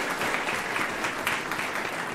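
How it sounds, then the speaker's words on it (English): Brief, steady clapping from an audience at a school district governing board meeting, a close, dense patter with no voices over it. "Let's give our students a huge round of applause for being brave."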